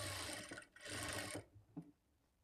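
Sewing machine stitching the lining of a blouse, a steady whirring run that stops briefly, resumes, then ends with a short clunk and quiet.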